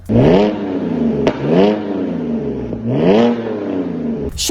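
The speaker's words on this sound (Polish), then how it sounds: "to fenomenalne brzmienie sześciu cylindrów w rzędzie" An inline six-cylinder coupe engine revs repeatedly, climbing in pitch three times with smooth rising snarls and brief dips between, loud and close.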